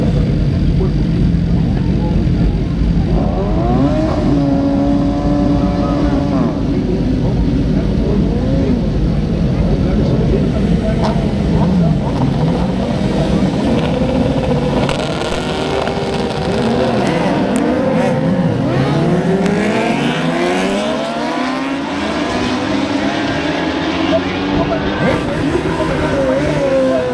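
Superbike motorcycles race past at the Superbike Brasil round in Londrina, their engines rising and falling in sweeping pitch as several bikes pass in succession, loud and continuous, with a commentator talking over them.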